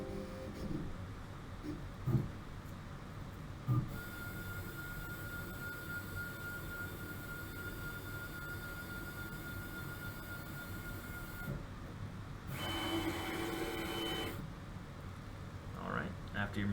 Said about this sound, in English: after your machine's done doing its little dance and figuring out where it's at